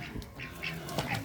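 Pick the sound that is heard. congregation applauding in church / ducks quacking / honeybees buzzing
ducks quacking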